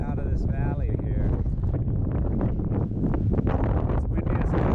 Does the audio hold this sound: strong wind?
yes